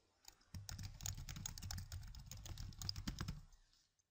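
A folder name typed on a computer keyboard: a quiet, fast run of key clicks lasting about three seconds, rising after a brief start and stopping abruptly, with no voices.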